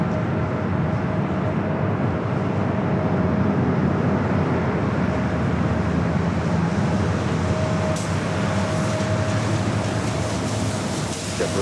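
A Boeing 777-300ER airliner rolls down runway 24 left at Los Angeles airport on takeoff, its steady, loud broadband engine roar holding even and continuous throughout with no voices.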